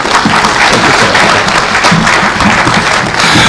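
Dense, loud crowd applause fills a political rally in Nakuru, Kenya, holding steady and unbroken from start to finish.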